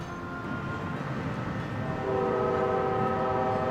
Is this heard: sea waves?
no